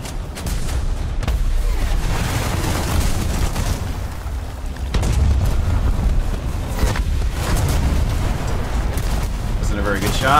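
Tank cannon fire in War Thunder with a French 11.7 lineup, heavy booming blasts and rumbling battle noise through the whole stretch, loudest near the middle, with a player talking over it.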